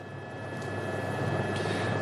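Globocop news helicopter flying over São Paulo, a steady broadband rotor and engine roar that holds loud and constant throughout, with no speech over it.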